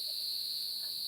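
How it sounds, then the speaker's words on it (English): A cricket chirps in a steady, continuous high trill, loud and close, with a faint background hiss and no voices. "It sounds like a cricket."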